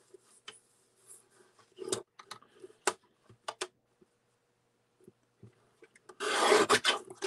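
A paper trimmer cuts stationery for a folio: scattered short scraping and clicking strokes, close and moderately loud, ending in a longer, denser rasping slice.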